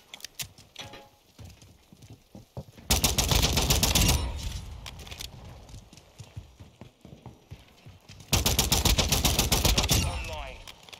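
In the Call of Duty MW2 game, rapid pistol shots crack out in two loud dense bursts, with quieter single shots and clattering between them.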